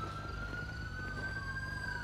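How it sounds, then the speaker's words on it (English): Ambulance siren in the video game GTA 5, a faint, continuous wailing tone sliding slowly in pitch over a low rumbling background, with no voices. "Ambulance."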